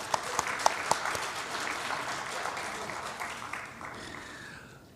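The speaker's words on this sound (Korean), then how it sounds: "박수하겠습니다." A church congregation claps together in a broad wash of applause, opening with a few sharp individual claps before settling into steady clapping that gradually fades, with faint voices underneath.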